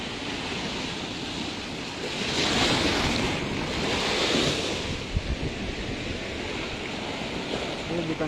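Ocean waves wash against a broken concrete sea wall protecting a coastal village road, a continuous roaring surf with two louder surges, mixed with wind buffeting the microphone.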